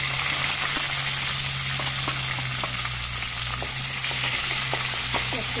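Onions sizzling in hot oil with panch phoron and whole cumin for a chicken and chickpea curry, a steady close frying crackle with small scattered pops and stirring, no voices.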